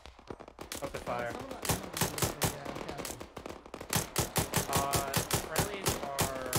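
Rapid, loud gunfire from the ArmA 3 combat video game, with dense bursts of automatic weapon fire cracking in quick, steady rhythm for several seconds and a brief lull near the middle.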